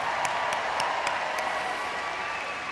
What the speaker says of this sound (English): And a round of applause, please, for Vardy.